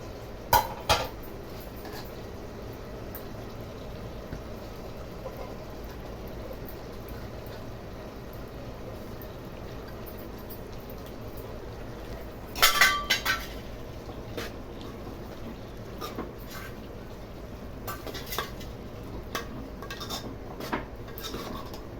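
Tamarind leaves stirred in a cooking pot, soft scraping with a few metallic clinks of a spoon against the pot over a quiet simmering background.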